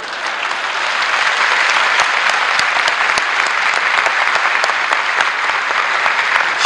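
Sustained applause from a large audience at a political speech by Nicolae Ceaușescu: a dense, even wash of clapping that holds steady throughout, with no voices over it.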